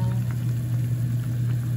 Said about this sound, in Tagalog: So, yan, kumukulo na.